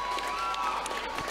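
A crowd at a Fight Circus fighting event applauds fighter Flora, with dense clapping and cheering spread across the short span alongside a voice.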